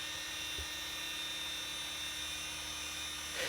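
A small polisher with a WaxedShine lamb's wool pad runs on the curved fender of a swirled Mercedes, producing a constant high-pitched whine that stays steady and even throughout, moderately quiet and close.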